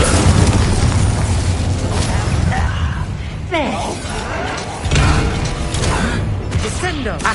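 Spell blasts in Hogwarts Legacy video game combat: loud, heavy booms and bursts go off back to back, a dense barrage of explosions with shattering crackles between hits.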